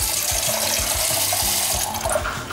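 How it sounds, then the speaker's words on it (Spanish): Tap water gushes steadily into a cooking pot in a home kitchen, a loud, continuous splashing rush that runs alone without any talk. "Lo primero que voy a echar ahora es agua en la olla."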